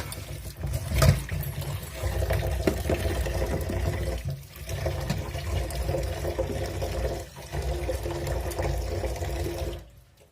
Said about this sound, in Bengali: সুন্দর করে শিমগুলোকে আমি পরিষ্কার করে ধুয়ে নিচ্ছি